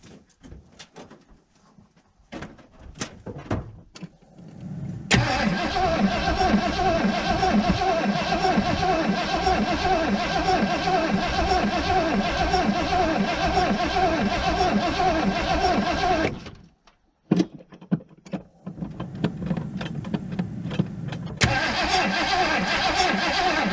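A 1980 Ford Bronco, not started in 18 months, cranks with a few short starter bursts, then catches and runs loudly up close for about ten seconds, stops briefly and starts again.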